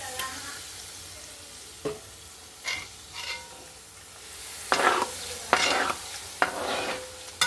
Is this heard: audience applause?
no